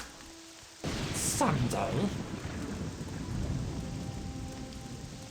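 Heavy rain hisses steadily in Morrowind, with a loud thunder crack and rolling rumble bursting in after a quiet opening, the downpour continuing loud and close throughout.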